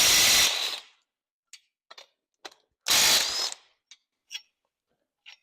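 A ratchet wrench with a 3/4 inch socket loosening main bolts on a Mopar LA 360 engine block, two longer bursts of rapid clicking separated by scattered single ratchet clicks and small metallic taps, close and clear.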